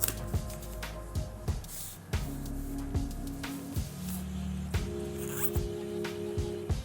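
Protective plastic film peeled off a new Oppo A53 phone, a series of close crinkling rips and crackles in short bursts with brief pauses, heard alone.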